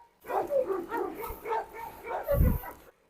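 A rottweiler puppy among several dogs gives a run of close, quick barks and yips in uneven bursts, with a louder thump near the end.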